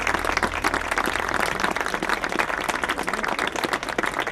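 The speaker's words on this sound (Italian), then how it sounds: "Saluterei anche con un applauso per Maria e Andrea Sodano" Audience applause greeting guests at an inauguration event, with many hands clapping close and lively, individual claps audible in a steady patter, over a low hum at the start.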